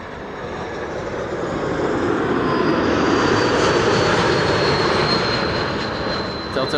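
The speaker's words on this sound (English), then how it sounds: "Telltale whistle, geared turbofan engines." A jet airliner with geared turbofan engines roars past landing at Amsterdam Schiphol, swelling then easing, with a thin high whistle running through the engine noise.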